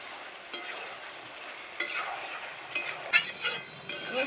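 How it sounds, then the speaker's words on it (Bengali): Mutton sautés with meat masala in a pan, a soft, continuous sizzle punctuated by a handful of scraping, clinking stirs of a metal spoon, close and fairly quiet. "আমি অর্ধেকটা মিট মশলা দিয়ে ভালো করে কষাবো।"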